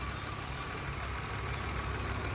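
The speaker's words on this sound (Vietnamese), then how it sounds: "máy nổ phải nói thì thầm luôn anh chị nhá" A 2015 Mitsubishi pickup truck imported from Thailand idles quietly, giving a steady, even engine hum with no revving, heard alone throughout.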